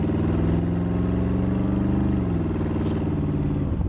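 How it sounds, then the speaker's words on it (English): A 1932 Ford street rod's engine idles with a deep, steady rumble close up, then gets a brief blip of the accelerator partway through that shifts the pitch before it settles again. "I just moved the accelerator about that far"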